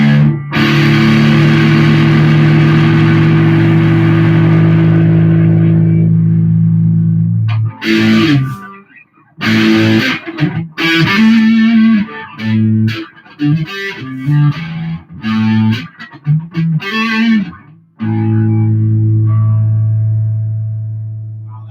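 Electric guitar with distortion through a Joyo Zombie mini amp: a long sustained fuzzy chord rings out, then choppy bursts of distorted notes and bends, ending on another held chord, loud and close.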